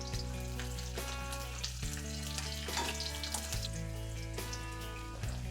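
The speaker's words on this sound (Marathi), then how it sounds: "सोबतच लसूण अद्रक पण टाकून देऊ यांना थोडंसं भाजून घेऊ आपण" Garlic and ginger frying with whole spices for chana masala, a steady close sizzle with light crackle throughout, plus occasional soft clinks and low background hum, no voices.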